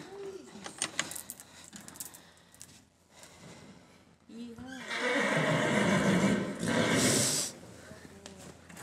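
A horse whinnies loudly and at length close by, snorting and shifting beforehand, with a few clattering noises around it and a voice speaking briefly near the start.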